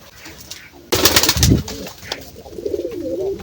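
A female pigeon gives a low, throaty, male-like coo after a sudden rustle, followed by softer cooing nearby.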